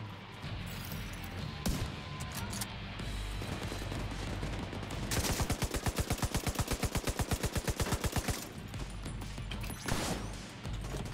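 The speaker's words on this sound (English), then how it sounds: "So I've got like an automated sniper rifle, or sniper rifle turret. It's really, really good. It'll just aim at guys and just shoot them down." An automated sniper rifle turret fires at enemies in The Division 2, with a few separate loud shots followed by a fast, evenly spaced burst of gunfire lasting several seconds before it tapers off into single reports.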